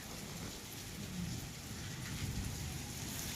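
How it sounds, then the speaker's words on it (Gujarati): Dense, steady downpour of heavy rain in a village during a windy storm, hissing across surfaces, with a low rumble underneath and no voices. "ફૂલ વરસાદ વરસે, ક્યારનો જ વરે છે"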